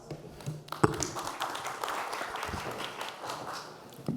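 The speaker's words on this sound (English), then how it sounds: "We can give him a round of applause." An audience applauds a speaker at the IsDB Group Private Sector Forum: a steady, dense patter of many hands clapping that holds at an even level for about four seconds, with a few sharper claps standing out.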